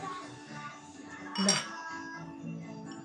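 Wine glasses filled with red wine clink once in a toast at a surprise gift celebration, a single bright chime rising above steady background chatter and voices.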